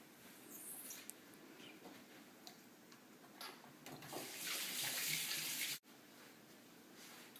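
A kitchen tap runs into a sink while hands are washed before baking, a soft hiss that swells louder midway and then stops abruptly, followed by quiet room tone.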